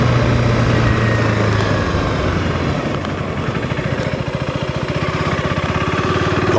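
A 2025 KTM 390 Enduro R motorcycle, fitted with an aftermarket fuel controller, pulls away from idle in a low gear. The close engine note throbs, then rises into a quickening, evenly pulsing drone with no voices.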